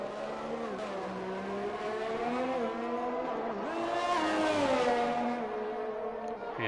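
A Ferrari race car engine in a racing game at Bahrain, heard as a continuous high-revving whine that rises and falls through gear changes, steady and close, with no talk.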